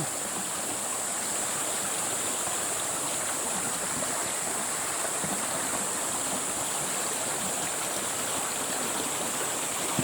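Irrigation water pours steadily into a corn field, a loud continuous rushing and gushing that stays close and unchanging throughout, with no voices.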